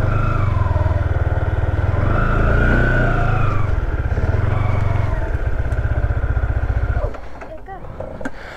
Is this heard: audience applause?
no